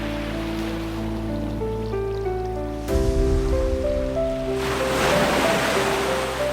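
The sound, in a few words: ocean waves crashing against rocky coastline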